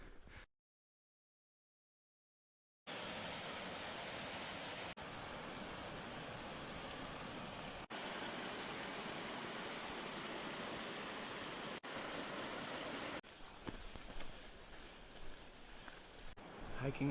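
A river flowing beside a hiking trail on the Colorado Trail near Durango, a steady broadband rush of water after a brief silent gap, fairly quiet and constant, roughening slightly toward the end.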